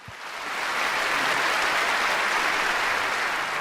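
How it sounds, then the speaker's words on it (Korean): Audience at a scripture recitation contest breaks into warm applause welcoming the first contestant, clapping swelling within the first second into a steady, dense roar that holds alone to the end. "첫 번째 참가자를 뜨거운 박수로 모시겠습니다"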